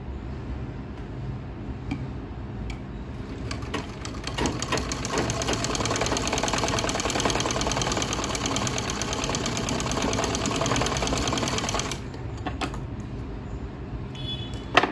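A sewing machine runs in a steady, continuous whir while stitching around the neckline of a kameez. It sounds close and fairly loud, with a brief slowdown near the end and no talking over it.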